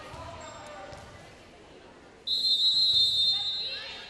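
A referee's whistle blows at a high school volleyball match between Kennedale and Seguin, a sharp blast cutting in over gym crowd murmur and chatter, lasting over a second before fading.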